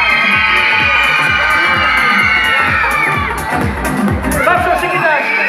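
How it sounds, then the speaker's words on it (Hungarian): A children's team at a kids' show screams and cheers, with rhythmic clapping running through it, loud and close, shrill voices whooping in a crowded room. "És akkor most sikítva kéne ennek a csapatnak tapsolnia!"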